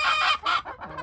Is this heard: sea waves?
no